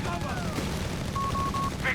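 An MG42 machine gun fires in Company of Heroes 3, a World War II strategy game, with a brief rattling burst mixed into battle noise while a commentator talks over it.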